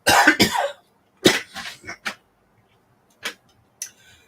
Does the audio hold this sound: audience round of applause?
no